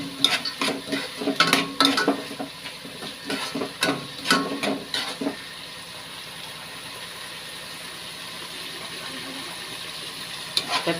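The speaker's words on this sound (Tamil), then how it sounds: "தக்காளி நல்லா வதங்கிட்டு" Tomatoes sautéing in oil in a pan for chicken gravy, with repeated scraping stirs of a spoon for the first half, then a soft steady sizzle continuing alone.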